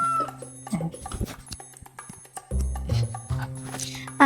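A chicken clucks in short, irregular bursts close by, with brief quiet gaps between the calls and a louder cluck near the end.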